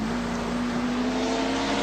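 A 1985 Australian Touring Car Championship touring car engine drones at high revs nearby on the Sandown straight, a steady buzzing roar throughout the short moment.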